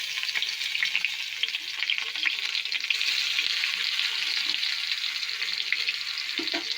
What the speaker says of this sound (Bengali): তেলটা গরম হয়ে গেছে এবার এই পাতুরিটা দিয়ে দেবো মাছটা